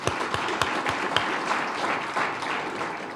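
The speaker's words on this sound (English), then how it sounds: "Big round of applause, please" Sustained applause from a crowd at a State of the City address, many hands clapping together in a thick, even roar with a few sharper nearby claps standing out.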